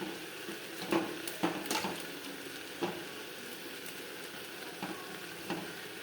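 Salted onion, tomato and green chili are stirred in a pan, giving a soft steady sizzle with a few sharper scraping clicks of the spoon against the metal, fairly close and quiet, with no voices.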